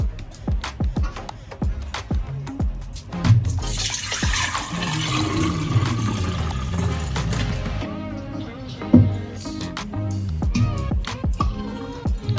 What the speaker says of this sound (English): I'm just gonna pour it in my glass